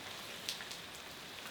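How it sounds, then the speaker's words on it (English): Steady rain falling on surfaces in Southern California, a soft continuous hiss with scattered drop patter, faint and alone. "Rain. Rain."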